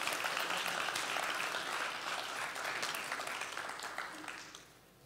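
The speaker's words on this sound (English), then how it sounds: "Give him a round of applause, please, our junior monarch." A crowd applauds a young presenter at the launch of a public campaign, their clapping full and dense at first and then thinning and fading toward the end.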